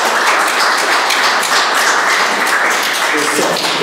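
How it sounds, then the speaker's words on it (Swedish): An audience at a Swedish research panel debate gives a round of applause, loud, dense and continuous clapping filling the room without pause. "Jag tycker vi är värda en liten applåd innan vi..."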